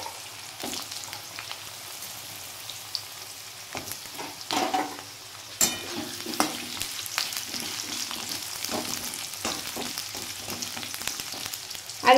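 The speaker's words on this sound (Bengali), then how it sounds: "এবার এই আলুটা একটু ভেজে নেব।" Potatoes fry with bay leaf and whole cumin in a pan over medium heat, a continuous soft sizzle dotted with close stirring clicks and spatula scrapes, with no talking.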